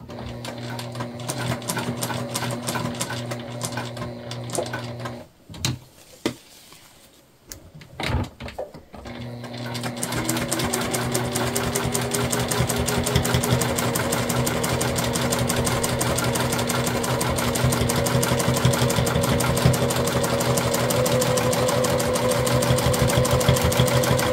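A sewing machine stitches dish drying mats into a trick-or-treat tote bag. It runs in fast, steady bursts, pauses briefly, then resumes and holds a constant loud mechanical whir through to the end.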